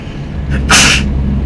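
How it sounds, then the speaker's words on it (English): One loud, sudden sneeze after a brief catch of breath, set against a steady low engine rumble. "Feel a sneeze coming."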